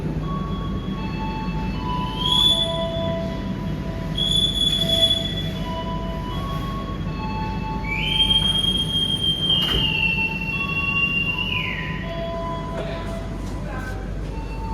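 Logawa economy-class passenger train pulling out of Jember station, with steady rumble and rolling noise, wheels squealing in long high whines, and faint voices in the background.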